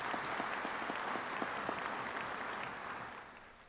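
Steady applause from a commencement audience honoring a board of visitors, dense clapping that holds evenly and then slowly fades toward the end, heard from a distance with no speech over it.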